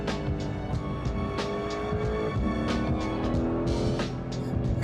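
A 2025 Porsche 911 Carrera GTS on a road in the Western Cape, its engine droning steadily as it drives and brakes, with a shifting tone midway and no talking.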